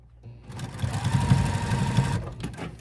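A sewing machine stitches hoodie seams in a fast, continuous mechanical whir that starts after a short pause, stays steady and close, then stops abruptly.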